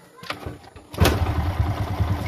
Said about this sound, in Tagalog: Start na yung motor natin.